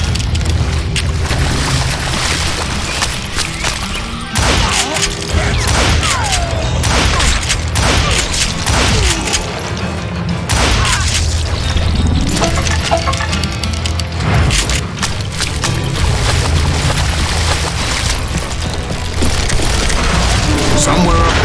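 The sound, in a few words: gunfire volley from the video game Call of Juarez Gunslinger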